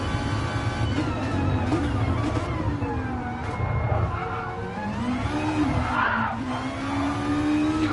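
A Toyota race car engine drones steadily on a racing circuit, loud and close, with pitch rising and falling as it revs through gear changes in a sustained run.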